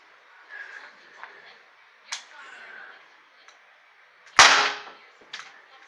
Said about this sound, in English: 357 snubnose pellet gun. This thing's a beast.